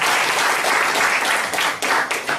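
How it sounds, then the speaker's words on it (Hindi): A short burst of audience clapping for a teacher during a Gano therapy talk, dense and fairly loud with a few sharper claps near the end. "जरा सर के लिए ताली बजाओ"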